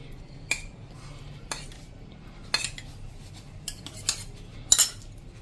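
A spoon stirs sorghum flour idli batter with yogurt in a bowl, with several sharp, irregular metallic clinks against the dish over soft, quiet mixing.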